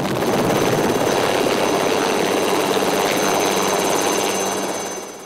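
A tourist helicopter flying from the mountain toward Sion in the Swiss Alps makes a loud, continuous rotor and engine roar with a steady whine, easing off slightly at the end.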